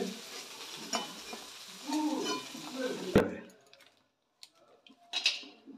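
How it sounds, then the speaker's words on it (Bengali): Cashews and raisins fry in a pan for vegetable pulao, a close, crackling sizzle with stirring scrapes that ends in a sharp metallic clank, then a much quieter simmer broken by a few light clinks. "কাজু কিশমিশটাকে ভেজে নেওয়া হচ্ছে।"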